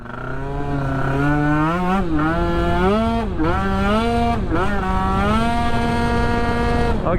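Yamaha Aerox scooter on a street tune, engine revving at half throttle: a loud, steady buzzing whine that rises and dips in pitch several times, close up with no talking.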